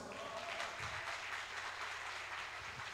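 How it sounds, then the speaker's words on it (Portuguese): A church congregation applauding in a steady, continuous wash of clapping, fairly distant and faint, with no talk over it. "Você pode dar uma aplauso a Jesus?"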